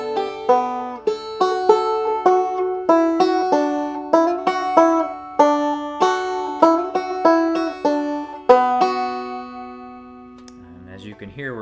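Banjo picked in two-finger thumb-lead style plays a bright, plucky run of notes in a lively rhythm, close and clear, ending with a faint brush of handling noise.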